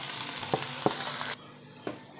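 Onions with ginger-garlic paste frying in hot oil in a pan, a steady sizzle broken by a few scraping stirs of a spoon, then the sizzle drops to a quieter simmer partway through.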